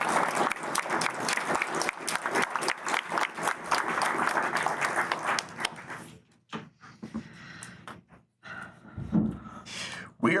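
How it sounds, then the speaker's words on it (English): Audience at a city council meeting applauding a police officer, a dense round of clapping for about six seconds that then thins out into scattered claps, shuffling and faint murmurs. "We'll give Officer Belknap one more round of applause."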